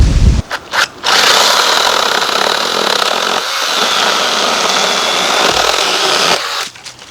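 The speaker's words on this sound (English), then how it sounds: "I got this new chainsaw in. It's a 6-inch chainsaw by" An ORBLON 6-inch mini chainsaw cuts, loud and close: a few brief starting buzzes, then a sustained high whine biting through for several seconds before it winds down.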